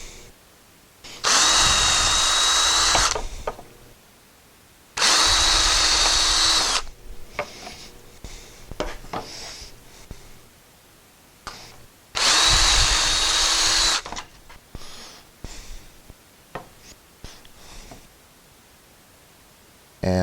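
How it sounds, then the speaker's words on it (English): A power drill bores holes through wood for a custom pegboard hammer holder, three loud close bursts of about two seconds each with quieter handling clatter between them. "so I'm just going to drill through"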